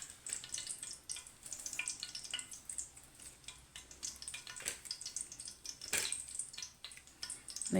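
Cardamom, cloves, cinnamon and fennel seeds sizzle and crackle in hot oil for mushroom biryani, a faint steady frying hiss with occasional sharper pops and a stirring scrape, no voices.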